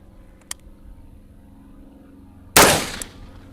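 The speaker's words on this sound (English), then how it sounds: "Go ahead and fire when ready." Rifle fitted with an ACOG sight fired at a target on a range, with one loud, sharp report near by, its echo trailing off, after a faint earlier pop and a low background hum.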